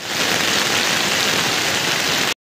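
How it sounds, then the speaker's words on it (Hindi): Heavy rain pours down steadily in a jungle at dusk, a dense, loud and continuous hiss of downpour with no voices, cutting off abruptly at the end. "बारिश देखो बाहर कितनी ज़्यादा बारिश पड़ रही, बहुत ज़्यादा तेज़ बारिश भाई स्टार्ट हो गई यहीं पर।"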